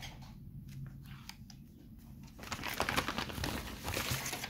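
A received parcel being opened, its plastic packaging crinkling and rustling close up, with scattered handling noises first and a denser, steadier crackle toward the end.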